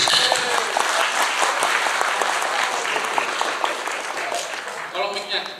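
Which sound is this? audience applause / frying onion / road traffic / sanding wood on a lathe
audience applause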